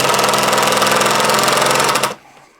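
A Craftsman cordless drill drives a 2.5 inch deck screw, its motor buzzing loud and steady with a fast rattling pulse for about two seconds before cutting off abruptly.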